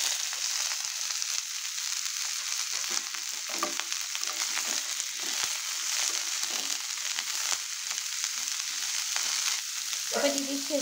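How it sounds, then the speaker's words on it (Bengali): Vegetables frying in mustard oil in a kadai, a steady broadband sizzle with occasional stirring scrapes, continuous and close, with no talk. "এবার কেটে রাখা সবজিগুলোকে আমি একটু ভেজে নেব।"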